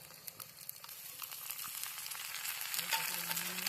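Chopped garlic and ginger frying and being stirred in a pan outdoors, a soft steady sizzle that grows slightly louder, with faint scraping strokes; quiet overall, no talking.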